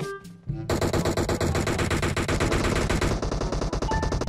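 Automatic gunfire in a battle royale video game rattles in a fast, continuous burst of sharp, loud shots lasting several seconds after a brief quieter start.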